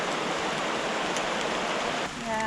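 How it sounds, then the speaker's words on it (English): Heavy rain pouring down outdoors on a hiking trail, a dense, loud, steady wash of noise close by, dipping briefly near the end. "It's raining pretty hard. it's raining too hard."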